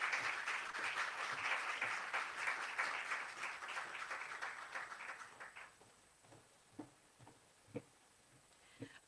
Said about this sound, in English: One more round of applause for June Sapong, OBE.